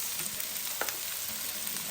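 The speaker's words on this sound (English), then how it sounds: "a little bit of salt's nice when you're frying your onions." Onions and peppers fry in a pan with a quiet, steady sizzle and crackle, plus a brief louder spit partway through, with no voices.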